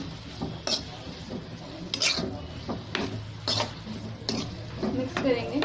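Bottle gourd halwa stirred in a pan with a spoon, giving repeated scraping and clinking knocks against the metal in an irregular rhythm, close and moderately loud, with faint sizzling underneath.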